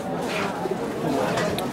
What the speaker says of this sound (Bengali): এটা পাট্টা পায়রা